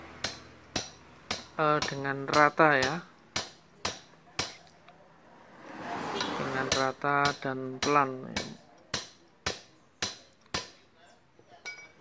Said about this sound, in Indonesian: dengan bantuan pipa kita palu aja ke bawah ya